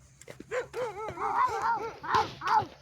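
Several dogs bark and yelp in quick succession, mixing higher whimpers with sharper barks, close and fairly loud.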